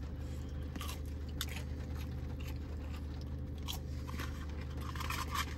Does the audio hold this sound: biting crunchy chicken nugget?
yes